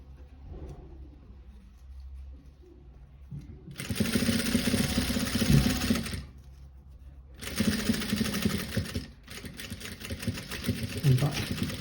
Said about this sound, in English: Run a stitch. Back first and forward.